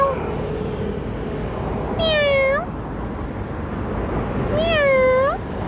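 A pet cat gives two clear, drawn-out meows a few seconds apart, close and loud over a steady background rumble.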